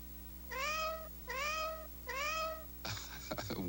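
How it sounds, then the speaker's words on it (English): A cat meows three times in even, drawn-out calls during a Meow Mix cat food commercial, followed by a short burst of brighter clattering sound, all close and clear. "You meowed twice for the second Meow Mix."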